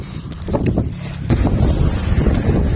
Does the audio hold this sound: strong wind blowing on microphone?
yes